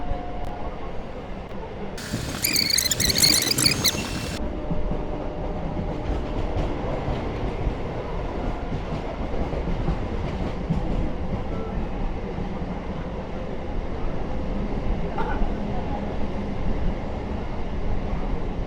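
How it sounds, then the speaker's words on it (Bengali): A local express train pulls into Kamarkundu station with a continuous heavy rail rumble and rattle. A brief bright hissing burst comes early, and the noise stays steady and close to the end, with no talk. "ট্রেন ঢুকছে কামারকুণ্ডু"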